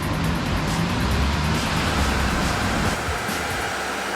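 A Volkswagen Golf R MK7.5 with upgraded turbo and clutch runs on a dyno, giving a loud, steady engine roar with broadband rush that holds continuously throughout.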